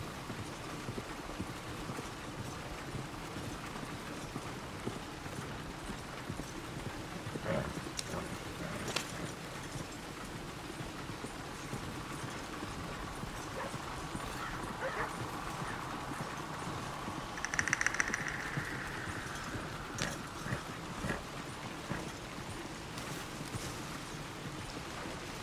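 Steady clip-clop of a horse's hooves on a road in the Red Dead Redemption 2 video game, an even walking rhythm heard faintly and continuously over a low ambient background, with no speech.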